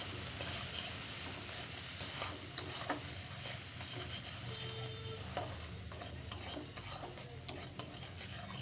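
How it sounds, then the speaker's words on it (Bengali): Spice masala and meat masala are sautéed in a pan for a village-style cauliflower, potato and fish curry, a soft, constant sizzle with scattered light stirring scrapes, faint and even throughout. "এবার মশলাটা খুব ভালো করে কষিয়ে নেব"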